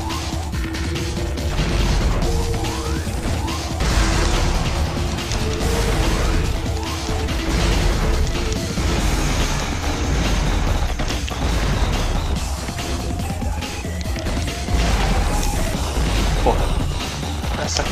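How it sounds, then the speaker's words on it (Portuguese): Grenade launcher shots in Devil May Cry on Dante Must Die difficulty land as heavy bursts and crashes within a loud, continuous wash of combat noise. "São três tiros de lança-granada pra matar"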